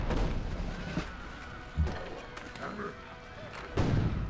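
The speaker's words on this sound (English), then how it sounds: "All cannons attack the damn city." Cannons in the Civilization V game fire on a city, a few dull booming thuds spaced a couple of seconds apart, heard faintly beneath a player talking.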